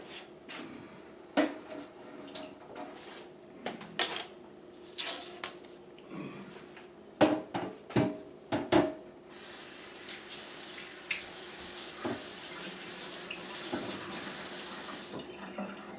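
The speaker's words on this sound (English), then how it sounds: "Wash the board off." Tap water runs into a sink while a cutting board is rinsed off, a steady broadband wash broken by clattering knocks of the board against the basin, the flow growing louder and fuller toward the end.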